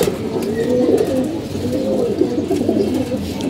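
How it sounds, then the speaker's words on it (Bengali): Pet pigeons perched up high coo in a steady, overlapping low murmur, several birds close by with continuous soft rolling calls and no talking. "আমাদের কবুতরগুলো উপরে সব বসে রয়েছে"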